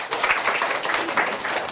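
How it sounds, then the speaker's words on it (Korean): A classroom of students claps together for a classmate's design work, a short burst of dense, close applause that carries steadily to the end. "박수 한번 쳐주세요"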